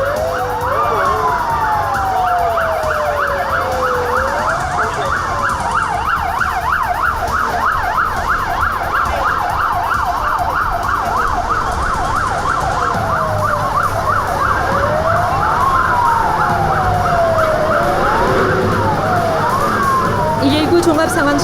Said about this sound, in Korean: 지금 대원들과 소방차가 신속하게 출동하고 있습니다.